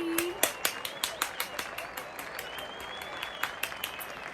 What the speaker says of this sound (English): give me that round of applause